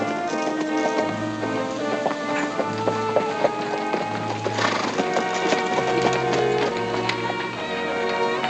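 Horses galloping with steady clip-clopping hooves and repeated neighing, loud and close, under dramatic music in a western ranch setting.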